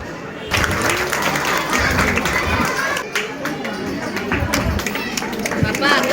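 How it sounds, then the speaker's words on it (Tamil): Audience applause fills a music concert hall, a dense, steady wash of clapping that runs the whole stretch, with crowd chatter and voices mixed in. "ஒரு கரகோஷம் கொடுத்துடலாம்."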